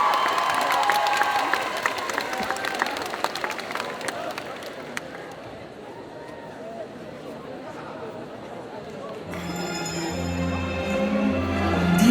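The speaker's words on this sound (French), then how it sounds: "Un tonnerre d'applaudissements" Audience applause and cheering at a solo cosplay contest at a Japan Addict Z convention, a sustained crowd roar of clapping that fades midway and swells again, with a voice over a loudspeaker.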